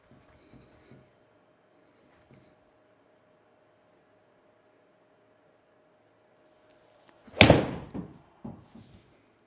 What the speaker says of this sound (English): let's have a look at the 7-iron shot